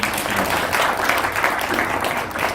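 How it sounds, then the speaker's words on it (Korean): An audience at a theology conference applauding four presenters, a dense, even wash of clapping filling the room for a short stretch. "우리 발표하신 네 분에게 다시 한번 박수 한번."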